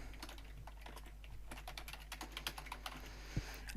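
Computer keyboard typing while a staff member's name and email address are entered into GDPR staff-management software, a steady run of quick, close key taps with no talking.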